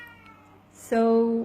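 A single clear, tonal meow from a house cat, close and fairly loud, rising suddenly after a brief word in the room and lasting about half a second.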